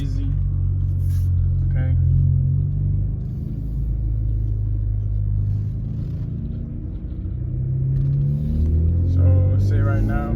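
A sixth-generation Chevrolet Camaro with a manual gearbox gives a steady, deep engine rumble from inside the car as it accelerates, with the pitch rising near the end while a person talks over it.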